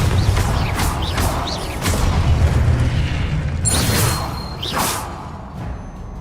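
The Confringo fire spell blasting in the video game Hogwarts Legacy: loud booming bursts with whooshing swishes and mechanical clunks over a constant low game rumble, and no speech.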